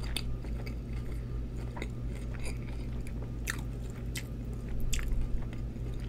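Birria queso tacos being bitten and chewed up close, with wet crunchy bites and squishy chewing repeating steadily over a constant low background hum, and no talking.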